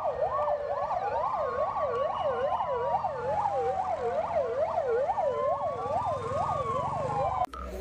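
A toy fire truck siren wails in a rapid, repeating up-and-down pattern, close and steady, ending in a sharp click.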